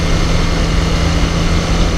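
Honda CBR 250R motorcycle cruising at around 60–70 mph, a steady loud engine drone and wind rush continuing unbroken with a constant low hum throughout.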